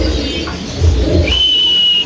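Quality pigeons on a home pigeon farm give low, soft coos through the middle of the clip, and a thin, steady whistle-like tone enters near the end.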